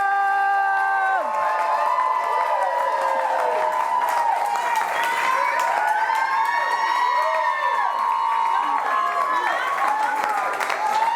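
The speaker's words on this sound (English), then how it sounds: "Keep clapping for Erica." Live podcast audience applauding and cheering steadily, with dense clapping throughout and voices whooping and calling out over it.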